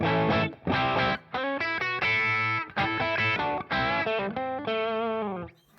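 Overdriven electric guitar with its volume knob rolled down for a cleaner rock and roll tone, playing loud, ringing chords and short phrases with brief gaps between them, with no voices.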